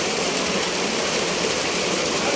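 Heavy rain pours steadily on an outdoor film set during a midday downpour, a dense, even hiss that fills the whole stretch without a break.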